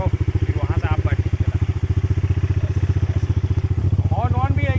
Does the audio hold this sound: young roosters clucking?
no